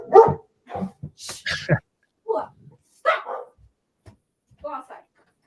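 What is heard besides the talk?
dog barking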